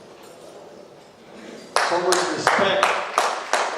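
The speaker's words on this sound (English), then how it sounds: "They do deserve a round of applause" An audience applauds for Anas and Fatima, with a burst of sharp claps building and then continuing in uneven waves; a voice speaks briefly over the start.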